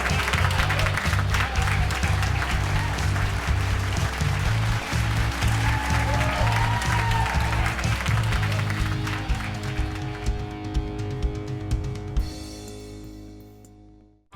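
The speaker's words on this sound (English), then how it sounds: "keep your applause going for Peter Byrne" Studio audience at a comedy talk show applauding in a dense, sustained wash of clapping under music, gradually thinning and fading out toward the end.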